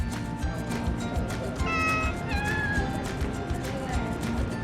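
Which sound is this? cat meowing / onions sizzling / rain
cat meowing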